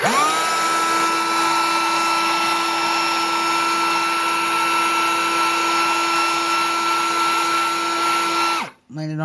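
Powder coating spray gun working on a cheap revolver, a loud, steady, whining mechanical drone held for about nine seconds before it cuts off abruptly.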